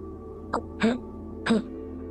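An old man coughing repeatedly, three short hoarse coughs spaced about half a second apart, close and clear over a quiet hum.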